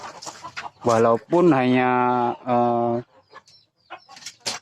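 Free-range village chickens cluck in a few drawn-out, rising calls, loud and close, with scattered softer clucks and rustles afterward; a person speaks briefly at the start.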